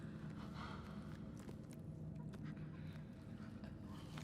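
Infected creatures in the game Inside breathing laboriously, a steady low rasping drone with faint wheezy sighs and soft shuffles, heavy and continuous throughout.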